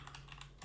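Quick, soft keystrokes on a computer keyboard as a folder name is typed on a desktop, a short faint patter over a steady low hum.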